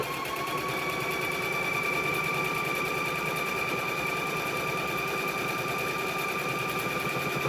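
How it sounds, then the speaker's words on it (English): A sewing machine runs steadily as quilt squares are stitched together, a continuous fast mechanical whir with a constant tone, close and fairly loud throughout with no talking. "We are going to sew this together."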